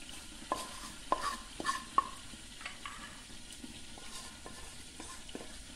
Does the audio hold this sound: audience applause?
no